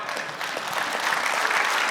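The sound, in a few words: church audience applauding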